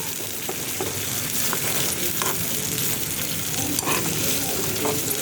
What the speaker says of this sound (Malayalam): ചൂടിൽ കുറച്ച് വെള്ളം ഒഴിച്ചിട്ട് ഒന്ന് വേവിച്ചെടുക്കണം മുളകൊക്കെ